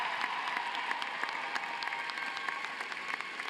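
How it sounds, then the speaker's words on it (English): At a university social work graduation ceremony, an audience gives steady applause with many hands clapping at a moderate distance, a dense and even wash of sound. "let's give a round of applause to my parents, with whom without I wouldn't be able to say anything without"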